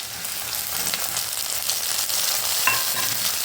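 Chopped onion and tomato fry in a pan with a steady, close sizzle and stirring scrapes throughout. A single clink sounds near the end, and no one speaks.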